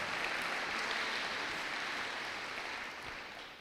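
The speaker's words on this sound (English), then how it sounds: "one more round of applause for just great help by our entire senior class" A school awards ceremony audience at Belleville High School applauds the senior class, producing a steady, dense wash of clapping that fills the hall and fades slightly toward the end, with no talk over it.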